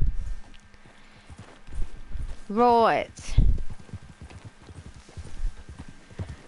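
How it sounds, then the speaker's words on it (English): Horse hooves clip-clop in Red Dead Redemption 2, a steady run of close hoofbeats with a brief whinny partway through, while someone talks over them. "I can hear my horse."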